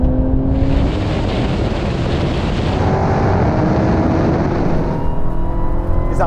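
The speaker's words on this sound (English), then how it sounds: "Come on, supercharged V8." Dodge Challenger Demon with a supercharged V8 drag racing a Porsche 911 Turbo S: a loud, continuous engine roar under hard acceleration, close and dominant throughout with a rising pitch.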